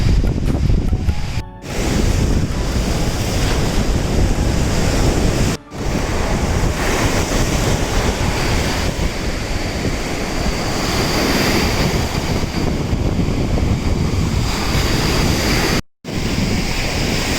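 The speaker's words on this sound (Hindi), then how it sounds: "जो लहरें इतनी तेज हैं," Strong ocean waves crash steadily beside a restaurant at sunset in Bujumbura, Burundi, with heavy wind buffeting the microphone. The roar is loud and continuous, briefly cut out twice, and no one speaks.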